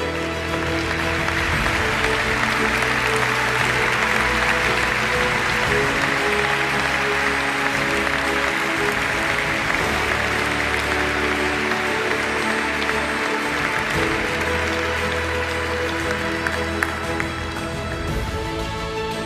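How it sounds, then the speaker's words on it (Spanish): Loud, sustained applause from an audience at a national canoeing gala, dense clapping filling a large hall without a break, with some cheering and background murmur. "un paso al frente y un aplauso muy fuerte"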